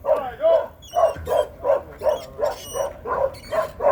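Dogs on a goat farm in Jamaica bark in a quick, even series of loud, close yips and bow-wows, about a dozen sharp barks in a row with a faint voice behind them.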